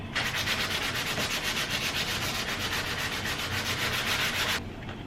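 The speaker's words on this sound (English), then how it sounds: "we are ready to continue sanding the blade" Steady, continuous abrasive rubbing of sandpaper on a dagger blade made from compressed, hammered aluminum foil, close and fairly loud with a fast back-and-forth rhythm that stops abruptly near the end.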